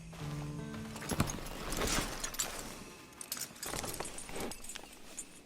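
Horse hooves clip-clop at a steady walking pace in the Western video game Red Dead Online, fairly quiet and close, with brief background clatter and no talk.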